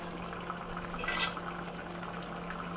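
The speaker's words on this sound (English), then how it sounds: "As you can see, the casserole is bubbling away." Vegetarian sausage and bean casserole bubbling in a pan, a soft, quiet simmering fizz with a steady background hum and a brief brighter burst of bubbling midway.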